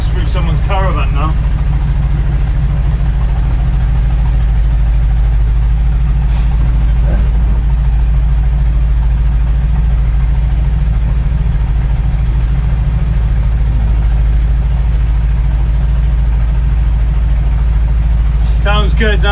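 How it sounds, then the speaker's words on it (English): A V8 engine idles in a van with a loud, steady low rumble throughout. A voice talks briefly at the start and end over the engine. "Listen to that engine."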